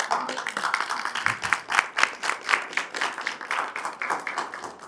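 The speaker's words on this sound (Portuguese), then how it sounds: "dá uma salva de palmas" A church congregation at a leadership class claps together in a brisk burst of applause, dense and fairly close, rising and easing over a few seconds.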